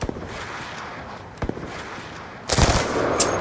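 Sharp bursts of gunfire in Black Ops 2 multiplayer: a few isolated shots early, then a loud, rapid volley near the end, fairly close and with little talk over it.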